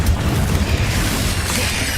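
A Confringo blast spell in the Hogwarts Legacy video game goes off as a loud, dense booming explosion that rumbles continuously for a couple of seconds.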